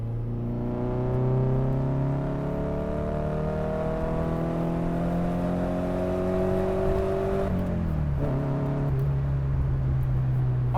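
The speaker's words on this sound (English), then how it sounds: "just listen to that engine" A Mercedes 190E engine revs smoothly upward in a long, steady rising whine, loud and close, then drops off sharply as the throttle lifts before settling into a lower hum.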